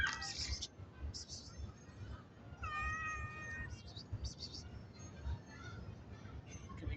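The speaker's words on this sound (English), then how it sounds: "This is one of the stray cats." A stray cat meows several times up close, short plaintive cries spaced apart, with a person speaking softly in between.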